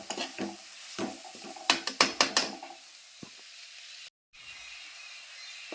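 Garam masala spices fry in a little oil while a spoon scrapes and stirs the pan, giving a quick run of sharp, close scraping clicks over a faint, steady sizzle, then a quieter stretch.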